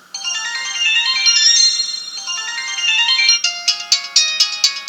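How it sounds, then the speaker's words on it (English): An old LG mobile phone plays a melodic ringtone loudly and up close, a bright sustained tune that switches into a sharp, evenly spaced beeping pattern. "You can just tell they're the old LG ringtones."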